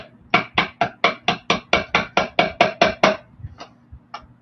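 A hammer taps lightly on wire jewelry, about a dozen quick, evenly spaced metallic taps followed by two softer isolated ones, close and clear with no talk.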